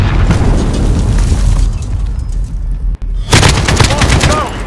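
Dense, continuous gunfire and booming explosions from a Call of Duty: Modern Warfare multiplayer match, loud throughout with a brief dip before another heavy burst of shots.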